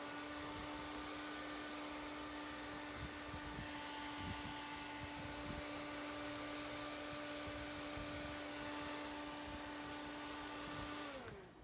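Hair dryer blowing steadily and loudly on a mixed media focal bead, a constant whirring drone with a steady whine, running alone for about eleven seconds before clicking off at the end.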